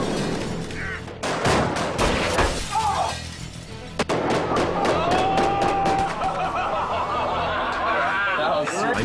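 Gunfire from film stunt shooting, including a .50 caliber Barrett rifle, cracks out in sharp bursts amid loud, busy action noise and voices.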